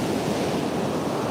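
Sea waves at a beach, a continuous broad roar of surf close by with some wind rumble on the microphone, steady and unbroken.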